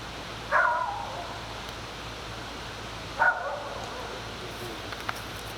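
An excited pet dog gives two sharp barks about three seconds apart at close range, with a quiet indoor background between them.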